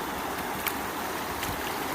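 Flash flood water rolls deep through a crossing beside a flood gauge, a steady, dense rushing roar with no breaks and no voices.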